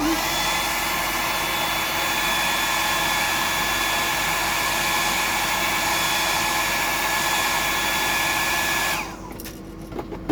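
A hair dryer drying paint on a painting runs loud and steady as a continuous close whoosh for about nine seconds, then switches off, leaving a few faint clicks.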